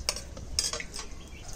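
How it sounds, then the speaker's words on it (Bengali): Fried eggplant is lifted out of a hot pan with a metal utensil, giving a few sharp scraping clinks and light oil sizzle, close and brief with no talk. "বেগুনটা ভাজা হয়ে গেছে, এবার তুলে নিচ্ছি।"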